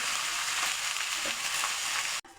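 Mixed greens (fenugreek, amaranth, dill and spring onion) sizzle loudly in a pan with onion, garlic and spice while being stirred, a steady close hiss that stops abruptly near the end.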